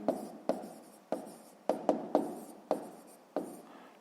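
Pen writing out a math answer by hand, with about nine short scratchy strokes coming in irregular bursts. The strokes are close and quiet, and nobody speaks.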